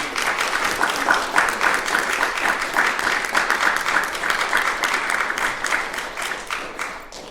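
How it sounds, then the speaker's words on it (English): A crowd at a horror film festival Q&A in Romford applauds after a screening: loud, dense, sustained clapping from many hands that runs without pause throughout, with no voices standing out. "Please do, everybody, give a round of applause."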